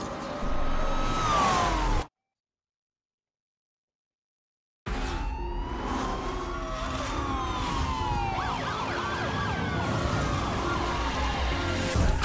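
Police sirens wail during a car chase in the racing game NFS Unbound, with several overlapping rising and falling tones over engine roar, broken by a few seconds of silence before resuming loudly.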